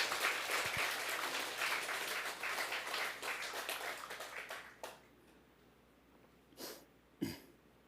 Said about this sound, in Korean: 원재 스님을 큰 박수로 맞이해 주시기 바라겠습니다